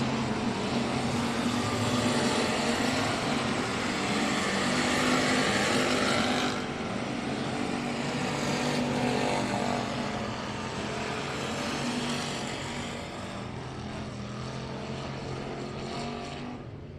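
Modified touring race cars run hot laps on a dirt oval at night, a loud steady engine roar that swells and fades slightly as the field circles, with no talk over it.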